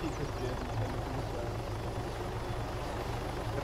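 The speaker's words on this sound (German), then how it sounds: "Flieg mal mit dem scheiß Heli weg, ey." A helicopter in the video game Arma 3 Altis Life, its rotor throbbing steadily and loudly at close range throughout, a continuous low chopping drone.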